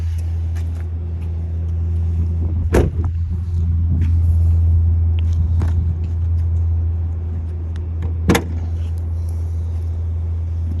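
A 2021 Audi RS5's 2.9-liter twin-turbo V6 idles with the hood open, a steady low rumble and hum close by, with a couple of sharp clicks or knocks breaking through the drone.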